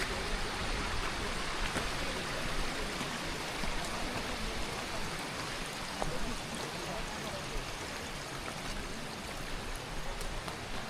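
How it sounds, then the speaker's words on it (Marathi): Rain falls steadily on the trek to Harihar Fort, a dense, even patter and wash of water that carries on unbroken throughout. "इकडे आले की पाऊस आपोआप वाढतोय."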